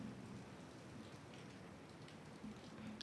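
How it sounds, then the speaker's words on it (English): Steady rain falling outside, heard faintly and evenly as a soft continuous patter with no talking over it. "do you hear this rain?"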